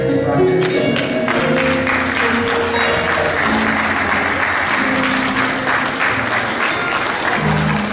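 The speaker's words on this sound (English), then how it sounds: "would you please stand so we can give you a round of applause?" Loud, sustained clapping from a church congregation, with a voice speaking faintly at the start and occasional cheers mixed in.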